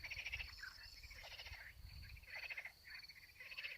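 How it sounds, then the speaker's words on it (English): Frogs croak in a dense chorus, repeated pulsing calls overlapping steadily, fairly close and moderately loud, with no voices. "The sound of the frogs is amazing."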